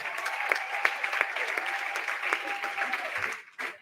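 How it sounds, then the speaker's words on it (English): An audience claps at a live charity auction, a dense, steady burst of applause with some crowd noise that tapers off near the end. "Give them both a big round of applause."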